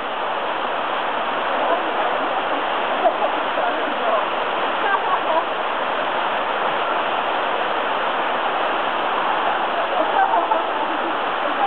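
A waterfall at Halls Gap pours with a steady, dense rushing hiss, fairly close and constant throughout, without a break.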